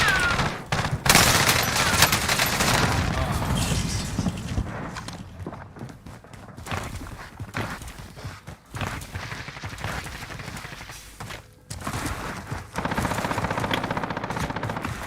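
Warzone combat gunfire rattles in sustained automatic bursts and scattered single shots, loud and close, thinning in the middle before intensifying again near the end.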